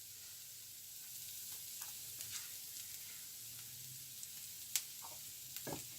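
Cumin, fennel and chopped onion fry in oil for a garlic sambal and egg dosa, giving a faint, steady sizzle with occasional small ticks and pops of stirring.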